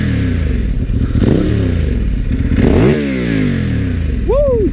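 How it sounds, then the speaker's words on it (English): A 2014 Ducati Hypermotard motorcycle engine revs up close and loud, its pitch climbing and falling through several sharp revs over a rumbling idle. "How can I not rev it for YouTube, man?"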